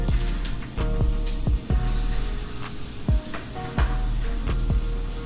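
Mahi mahi fillets frying in canola oil in a pan, a steady loud sizzle with a string of sharp clinks and scrapes from a utensil against the pan, no talking.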